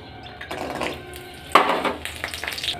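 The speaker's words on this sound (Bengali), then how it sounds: "তো সবার প্রথমে আমি বড়িটাকে আগে ভেজে নেব।" Lentil dumplings (bori) frying in hot oil in a wok, with clinks and scrapes of a utensil against the pan and a sharp clatter partway through over a soft, steady sizzle at close range.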